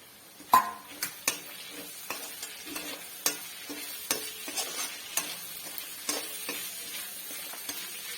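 Onions sautéing in a pan while cooking a Kerala-style clam meat stir-fry, with a steady low sizzle broken by repeated sharp scrapes and clinks of a spoon stirring against the pan.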